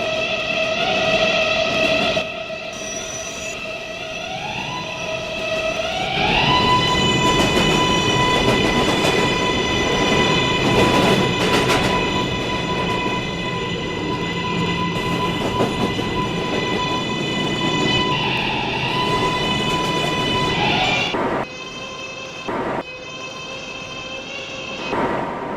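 A New York City 7 subway train runs steadily, its motor tones rising in pitch as it speeds up, with wheels rumbling and clattering on the rails, a brief drop near the end, then the hum resuming.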